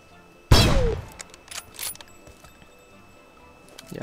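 A single sharp, loud gunshot from an AWM sniper rifle in a video game cracks out and echoes, followed by a few fainter clicks and thuds.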